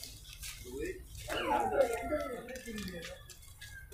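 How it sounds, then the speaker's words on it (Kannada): Abandoned female street dogs kept at an animal rescue centre; a brief high whimpering yelp rises in the middle of the clip over a low, steady background, with a faint murmur of activity around it. "ಇದೆಲ್ಲ ಬೀದಿ ನಾಯಿಗಳೆಲ್ಲ ಬಿಟ್ಟೋಗಿರುವಂಥದ್ದು ಹೆಣ್ಣು ನಾಯಿಗಳು."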